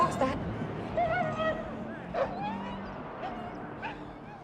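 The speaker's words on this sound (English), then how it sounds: "I hit a goddamn dog." An injured dog whimpering after being struck by a truck, with high, thin yelps and whines that rise and fall in several short cries. A voice speaks in the background under a steady low hum.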